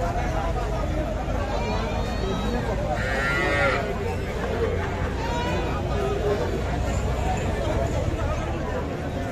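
Bull calves moo at a busy cattle market, a drawn-out low call rising above constant crowd chatter and nearby talking voices.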